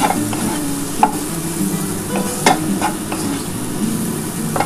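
Raw mango pickle frying in a pan as it is stirred, a steady close sizzle with periodic scraping strokes of the spoon against the pan.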